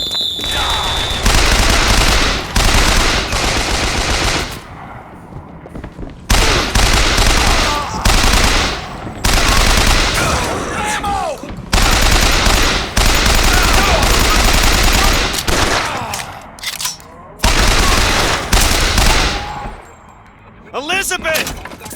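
Rapid bursts of gunfire in the first-person shooter Bioshock Infinite, loud, close and chaotic, with repeated volleys broken by brief pauses and a voice shouting now and then.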